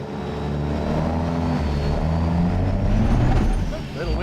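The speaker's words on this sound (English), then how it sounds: "Do a quick burnout." Ram 3500 Cummins turbo diesel dually truck doing a quick burnout at a drag strip, a loud sustained engine roar with rising harmonic tones, close and continuous, with a voice speaking over it.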